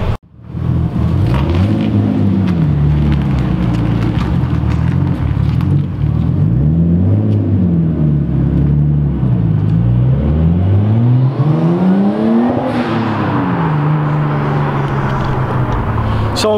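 A Japanese-market car at a nighttime car meet revs close by, its engine idling and rising and falling in pitch through repeated throttle blips, loud and continuous, with some voices faintly underneath.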